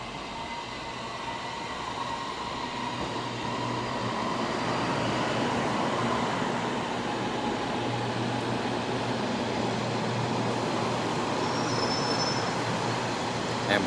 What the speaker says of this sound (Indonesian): Train towards Sentul Timur will arrive at platform 1.